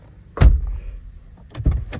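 A door slams shut on a 2005–2018 Nissan Frontier pickup just fitted with a new door lock actuator. One solid thump comes close by, then a softer latching clunk follows.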